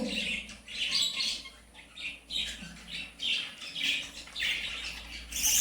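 Pet budgerigars squawk and chirp in repeated harsh bursts close by while being caught by hand and moved to another cage, with faint flapping between calls.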